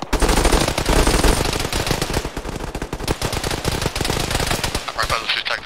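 Rapid sustained bursts of automatic machine gun fire in the military video game Arma during a ShackTac session, dense overlapping shots rattling continuously and loudly for several seconds.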